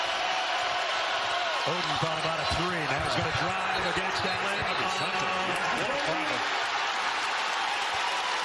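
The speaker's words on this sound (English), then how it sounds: "Here comes the crowd again." Basketball arena crowd at a college game, San Diego State at Utah State, roaring and cheering in a sustained swell beneath a commentator talking over it, with sneaker and ball sounds mixed in.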